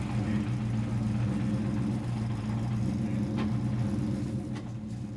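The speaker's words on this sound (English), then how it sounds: "think it's doing burnouts in the car park just here." An S5000 open-wheel race car doing burnouts in a car park, heard as a steady low engine rumble and whir at moderate distance, easing slightly toward the end.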